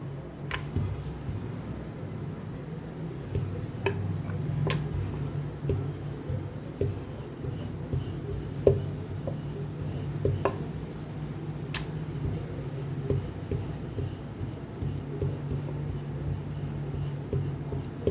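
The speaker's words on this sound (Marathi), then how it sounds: "तर मस्त गोल अशी पुरी लाटून घेऊया" Puri dough being rolled out with a rolling pin, giving steady, soft rubbing and rolling strokes with faint ticks, close and quiet with no talking.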